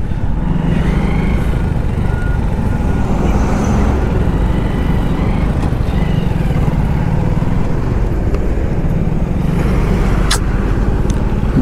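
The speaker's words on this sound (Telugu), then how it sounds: "ఘోరం అబ్బా ట్రాఫిక్." Heavy road traffic heard from a vehicle stuck in a long jam, a dense, steady roar of cars, motorcycles and larger engines filling the whole stretch, loud and continuous, with a brief sharp horn-like blip near the end.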